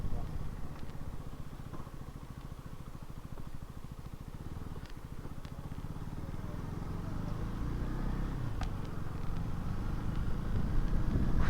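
A 2025 KTM Duke 250 motorcycle is ridden at a steady pace, its engine giving a low continuous drone mixed with wind and road noise that builds gradually in loudness, with a few faint clicks.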